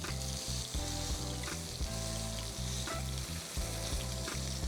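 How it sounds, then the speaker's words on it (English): Ribeye steak searing in a hot pan gives a loud, steady sizzle and crackle that runs unbroken throughout, with faint low thuds underneath. "so that you can sear the meat as well"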